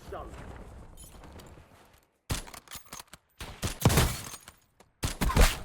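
Bursts of rapid video game gunfire, sharp and clustered, separated by short gaps, with a voice talking earlier.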